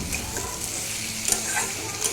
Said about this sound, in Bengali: তার মধ্যে দিয়ে দিয়েছি পেঁপে আর আলু। এগুলোকে একটু ভালো করে নেড়ে চেড়ে একটু গায়ে আঁচ লাগিয়ে